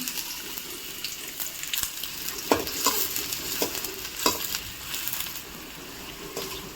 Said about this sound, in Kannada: ಎಣ್ಣೆಗೆ ಡೈರೆಕ್ಟ್ ನಾನು ಈರುಳ್ಳಿ, ಕಟ್ ಮಾಡಿರೋ ಈರುಳ್ಳಿ ಹಾಕ್ಕೋತಾ ಇದ್ದೀನಿ.